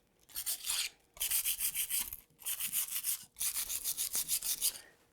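Rhythmic scratchy rubbing of sandpaper over chalk-painted wood, distressing the Chalky Chic paint finish, comes in four bursts of quick back-and-forth strokes separated by short pauses, close and fairly quiet.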